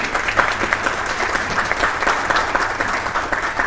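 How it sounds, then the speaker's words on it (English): An audience at a women's wellness symposium applauds its panel: a steady, dense wash of many hands clapping together, fairly close and loud, with no talk over it. "Let's have a big round of applause for my wonderful panel."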